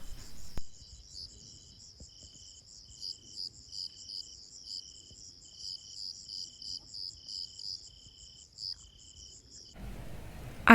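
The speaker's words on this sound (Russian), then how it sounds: "И звуки ночного поля, послушайте." Steady, dense chirping of crickets fills a night field of lavender outside a small Spanish town, the pulsing trills continuous and fairly close, with no voices and only a faint low rumble underneath.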